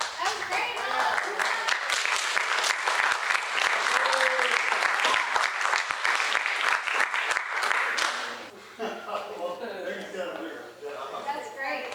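An audience on stage at a music workshop breaks into loud, sustained applause for about eight seconds, then the clapping stops abruptly and people start talking.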